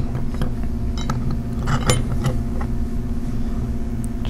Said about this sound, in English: you have an inch and 9/16 wrench that you can apply to the back half of the connector